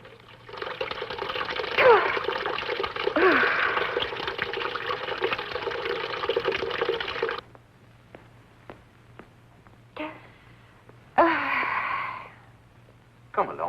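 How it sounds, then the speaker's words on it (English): A tap runs steadily as water is splashed onto a face, a continuous close gush that stops, followed by a few faint clicks and two short bursts of splashing water, with speech heard partway through. "I think I better get some water on my face."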